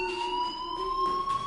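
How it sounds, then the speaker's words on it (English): A fire alarm rings in the video game Life is Strange, a continuous electronic tone with steady pitch and a faint pulsing, close and moderately loud. "do you hear that fire alarm?"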